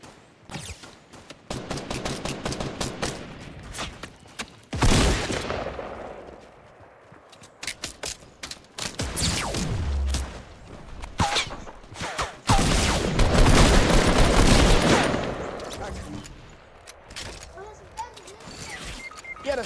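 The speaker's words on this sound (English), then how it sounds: "Semi-auto sniper rifle." Semi-automatic sniper rifle fire in the video game Fortnite: loud, sharp shots in bursts alongside scraping and other game sounds, with a player talking over the action.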